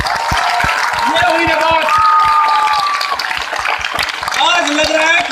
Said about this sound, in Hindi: जिसकी जितनी तालियां बजेगी वही कल आने वाला है